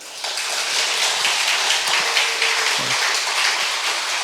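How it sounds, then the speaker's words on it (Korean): Sustained applause from a church congregation, a dense steady wash of clapping that holds at an even level for several seconds. "저를 위해서 박수 한번 보내주세요."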